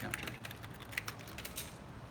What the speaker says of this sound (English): Let's check in with our chats here while I'm typing away.